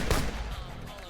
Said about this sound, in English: A burst of unfocused gunfire rained down from the rooftops.